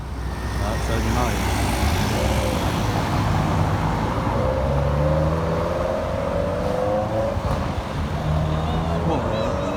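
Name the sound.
luxury car starting up and driving off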